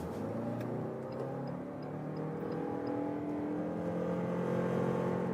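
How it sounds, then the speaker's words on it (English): A Toyota RAV4 GR Sport accelerates from 50 km/h, a steady engine drone climbing in pitch with rising rumble and road noise, heard loud and close from inside the cabin, with no talking. "So here we'll start from 50 kilometers an hour and accelerate it out"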